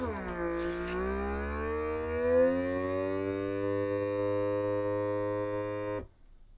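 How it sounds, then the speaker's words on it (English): Bonsenkitchen VS2100 vacuum sealer pumping air from a bag of cheese, a steady droning motor whine with a rising then level pitch, loud and close for about six seconds before cutting off abruptly. "Vacuum it down."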